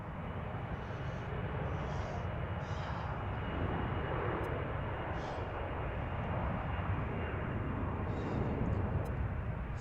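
Jet airliner engines roar at Reagan National Airport from the Gravelly Point viewing area, a broad sustained rumble that stays loud and steady for the whole stretch, with faint other noises flickering above it.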